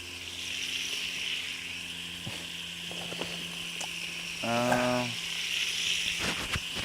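Chicken pieces dumped into hot frying oil give a steady hiss and sizzle that runs under a constant background hum, with a brief tonal hum partway through.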